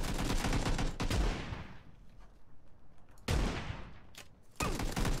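Rifle gunfire in the shooter game PUBG, two loud bursts of rapid shots with echoing tails, the second burst coming after a quieter gap and another volley starting at the end.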